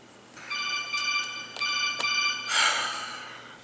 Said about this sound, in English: My phone has not really gone off all day, and now I sit down to do a damn video, and they're just going crazy.